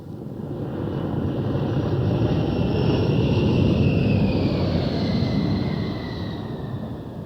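An A-10 Warthog jet roars steadily over the Arizona desert, a broad, sustained engine rumble that swells and holds at moderate distance, with a faint high whine sliding across it. No voices.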